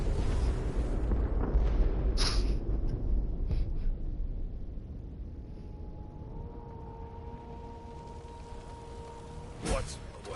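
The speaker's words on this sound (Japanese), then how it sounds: "ソースの爆発。" A source explosion in the video game Divinity: Original Sin 2 lands as a loud deep burst that decays into a long rumbling tail, with a thin rising tone and a sharp crack near the end.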